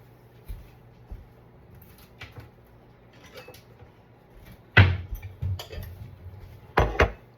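Bowls are pulled from a kitchen cupboard: scattered light clinks and taps, then two sharp, loud ceramic knocks as bowls are set down, with quiet gaps between.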